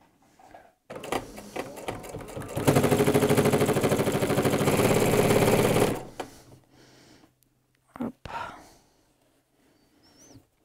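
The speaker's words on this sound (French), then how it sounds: "je plie ma bande, je fais mon emplacement ici et puis après je continue à coudre" A sewing machine stitches a jelly roll rug fabric strip over batting, running in one steady, loud burst of about three seconds, with quieter handling noises and brief clicks before and after.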